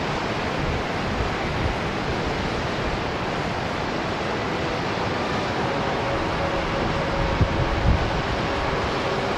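Waves wash steadily onto the beach at Ann Bay near Marrawah in Tasmania, where farmland runs down to the shore. The surf sounds like a continuous broadband rush mixed with wind noise, and no one speaks.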